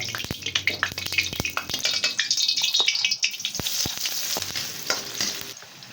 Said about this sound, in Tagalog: At igigisa muna natin ang ating sibuyas at saka bawang.